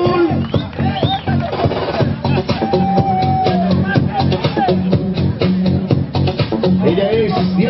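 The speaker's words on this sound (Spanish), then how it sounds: "Vamos a darle un fuerte aplauso a la chica Motul." A lively crowd at a national motorcycle rally cheers, whoops and claps, with shouts and babble over a rhythmic background beat, loud and continuous.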